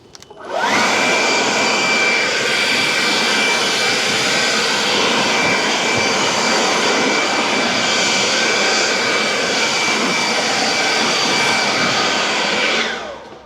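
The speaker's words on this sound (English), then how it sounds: "Now before you put it in, you gotta clean this up. I'm gonna blow out the dirt." Compressed air blasts continuously to clear dirt from a Tesla Model Y HEPA filter housing, a loud steady hiss lasting about twelve seconds with no talk.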